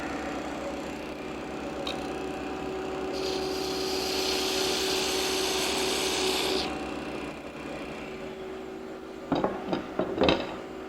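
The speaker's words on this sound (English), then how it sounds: "And I can cut my tenon." Tool cutting a tenon on a spinning wood lathe while turning a table part: a steady motor hum with a bright, scraping cut that swells for a few seconds, then a few sharp knocks near the end.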